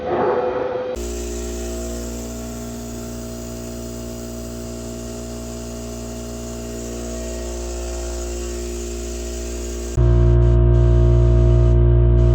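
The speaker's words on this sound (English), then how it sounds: "So even that air compressor doesn't really draw that much power." An air compressor runs steadily in an off-grid house under construction, a continuous droning hum with layered tones that holds level throughout and grows louder and harsher near the end, with no talking.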